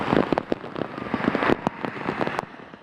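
Torrential monsoon rain pours down beside flooded lanes of the US 54 freeway near Dyer, a dense steady hiss of heavy rainfall broken by sharp, close drop impacts with no voices.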